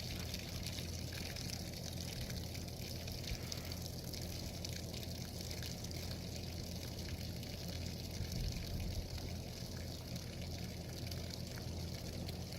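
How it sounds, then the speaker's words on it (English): Water drains from the emptied lines of a home water well system running back under the house, a steady, continuous rushing gush with faint drips mixed in, unchanging and alone for the whole stretch. "now we're just probably draining the lines going back up under the house"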